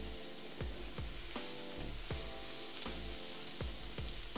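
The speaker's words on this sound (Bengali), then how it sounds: "দেখেন আমি কীভাবে নাড়তেছি, এইভাবে নাড়বেন, মানে দলা দলা যেন না হয়ে থাকে" Radish greens are stirred as they fry in a pan, a continuous soft sizzle broken by regular scraping strokes of the spatula roughly every half second.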